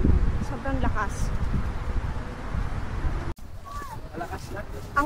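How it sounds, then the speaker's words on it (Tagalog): Strong gusting wind buffets the microphone on a tropical beach in Bauang, La Union, a steady loud roar of wind noise with people talking over it throughout. "Guys, ang lakas ang hangin dito, grabe. Sobrang lakas."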